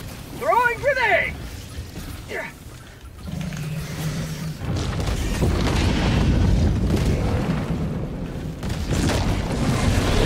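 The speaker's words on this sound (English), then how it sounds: "Throwing grenade!" A grenade in a video game goes off as a deep, rumbling boom that swells and rolls on for several seconds, preceded by a short shouted voice line and a low mechanical hum.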